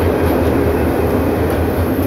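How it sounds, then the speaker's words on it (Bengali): Bijoy Express from Chattogram to Jamalpur, roof crowded with passengers, rolling into platform 2 at Bhairab Bazar junction: a close, loud continuous rumble of wheels and carriages with faint rail squeal, no voices. "এক্সপ্রেস ট্রেনটি ভৈরব বাজার জংশনে প্রবেশ করেছে।"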